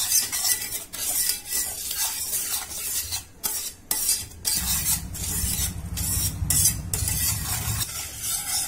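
Cocoa powder and milk being whisked together in a bowl for chocolate sauce, a steady scraping and clinking of utensil against the bowl with brief pauses, close and fairly loud, no talking.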